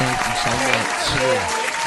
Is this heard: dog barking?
no